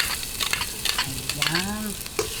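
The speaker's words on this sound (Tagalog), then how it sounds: "umpisahan na po natin ang paggigisa" Garlic sizzles in hot oil for chicken arroz caldo while a utensil stirs it with light scraping and clinks. Brief tonal squeaks rise above the close, steady frying, and no one speaks.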